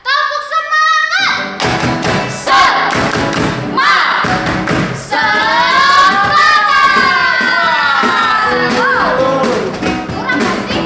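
A group of children at a Sunday school service chant loudly together with rhythmic clapping and thumping beats, voices rising and falling in a lively, energetic pattern.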